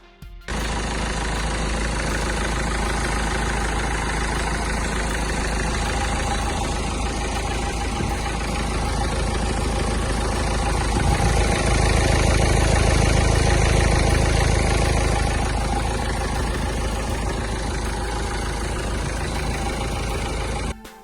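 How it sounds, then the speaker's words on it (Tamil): A 2004 Maruti Suzuki 800 AC variant with an MP5 engine idles steadily and loudly for about twenty seconds, with a low continuous rumble, a slight knock, and a brief swell in the middle. No voices are heard. "அடுத்த வெஹிக்கிள் பார்த்தீங்கன்னா மாருதி சுசுகி 800 MP5 இன்ஜின் தான் கொண்டு வந்திருக்கோம்"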